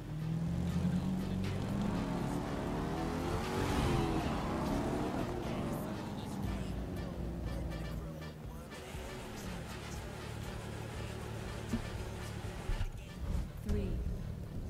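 A bright yellow Porsche sports car street racing in the video game The Crew 2: a close engine drone rising and falling through revs and shifts, with someone talking over it.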